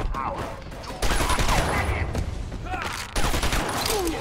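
Bursts of gunfire from an armed enemy in Batman: Arkham Asylum, with sharp volleys starting and stopping amid game ambience and effects.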